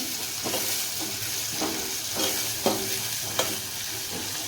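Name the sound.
onions frying in a pan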